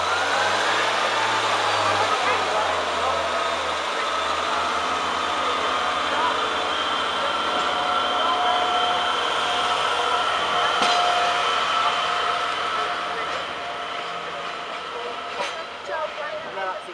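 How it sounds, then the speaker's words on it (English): A delayed Northern passenger train to Manchester Piccadilly pulls out of Sheffield station, its engine droning and wheels rumbling close by and fading slowly, with voices in the background. "Now leaving off of 2C is your slightly delayed 1214 Northern service to Manchester Piccadilly"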